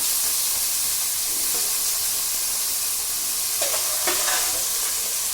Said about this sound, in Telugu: నూనె వేసాక ఇదిగోండి ఇలాగా వేపేసుకుంటానండి